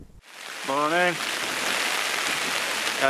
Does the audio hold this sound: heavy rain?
yes